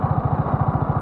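A TVS Apache RR310 BS6 motorcycle engine running nearby, a loud, even pulsing thrum with quick regular beats through a short burst, heard alone.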